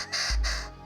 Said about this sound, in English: Red bird of paradise.